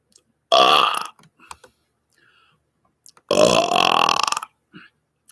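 Two loud, deep burps, the first short and the second long and drawn out, separated by a quiet pause with faint clicks.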